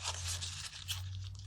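Paper crumpled by hand while making an abstract art print, a close, dry crackling and crunching that runs through a short moment, with a steady low hum underneath.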